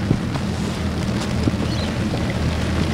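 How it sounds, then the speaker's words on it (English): Steady rain patters and hisses with a low, rumbling wash of wind noise and no voices, outdoors at a bream fishing tournament in Australia. "Sorry about the rain."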